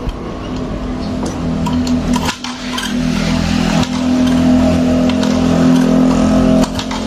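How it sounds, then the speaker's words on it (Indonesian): A Yamaha Mio J 115cc scooter with a dead battery is kick-started and its engine revs, a loud close steady hum that dips briefly then rises and holds at a higher throttle. "Ya, coba diengkol, selak nyala nggak? Gas digas."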